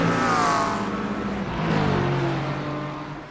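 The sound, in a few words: race cars at Le Mans in iRacing video game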